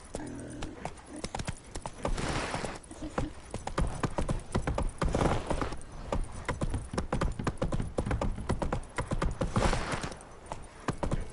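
Roach, the horse in The Witcher 3: Wild Hunt, trotting with steady, loud clip-clop hoofbeats throughout, an occasional whinny and faint game sounds behind.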